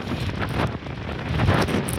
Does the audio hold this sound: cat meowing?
no